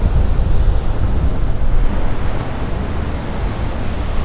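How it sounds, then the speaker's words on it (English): Ocean waves surge at Thor's Well on Cape Perpetua along the Oregon coast, a loud, continuous roar of surf with heavy wind buffeting the microphone. "Check out some of these waves. Check out that blow spout right behind me."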